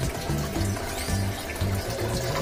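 Steady rushing and gurgling of water pumped up through a bucket filter on a fiber fish pond, continuous and close, with a low bubbling churn underneath.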